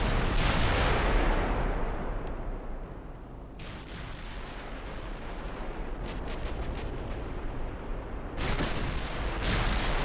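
Heavy naval guns of warships firing at long range in Ultimate Admiral Dreadnoughts, set in a 1900 British campaign: deep booming rumbles and rolling blasts, with a burst of louder crackling impacts near the end.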